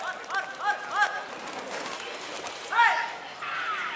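Pigeons coo and call in a few short bursts at a pigeon race in Bandar Lampung, Indonesia, fairly close and clear over a quiet outdoor background, with a later burst of calls near the end.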